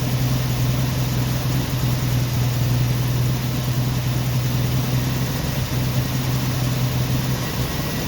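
A 1990 Jeep Wrangler engine idling roughly while cold, with a steady low droning hum that runs continuously and fairly loud, close by.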